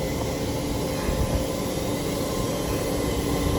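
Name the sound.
81 class locomotive hauling a coal train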